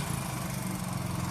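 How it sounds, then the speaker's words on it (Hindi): A Royal Enfield Bullet motorcycle engine idles just after starting, a steady low throbbing thump that stays even and close throughout, with no talk over it. "दूसरा हमारी बाइक हो चुकी है स्टार्ट,"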